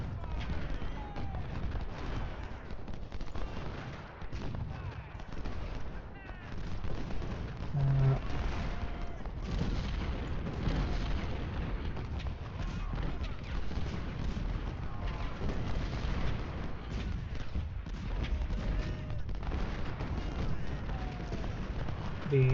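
Artillery fire in the Ultimate General Civil War strategy game, Battle of Fredericksburg: a continuous dense battle din of cannon booms and crackling gunfire, steady and loud throughout with no clear pauses.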